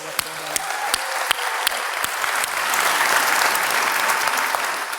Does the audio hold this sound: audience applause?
yes